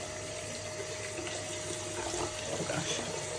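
Tap water runs steadily in a bathroom sink or shower while an oat cleanser is rinsed off a washcloth, a fairly faint, continuous hiss and splash with slight swells toward the end.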